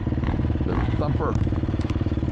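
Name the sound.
single-cylinder motorcycle engine thumping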